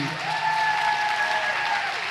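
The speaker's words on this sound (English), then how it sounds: "Please give a round of applause to" Audience applause for an author at a literary festival conversation, a full, even wash of clapping that stays steady throughout, with a faint tone running beneath it.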